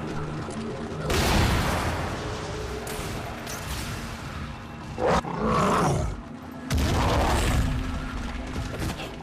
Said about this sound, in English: Here I just use my gas grenades to try to make a crawler.